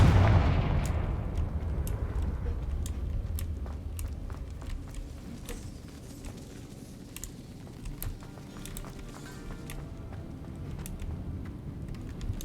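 Confringo spell explosions in the Hogwarts Legacy video game, a booming blast at the start that decays into a rumbling tail, followed by scattered sharp crackles and clicks at a moderate level.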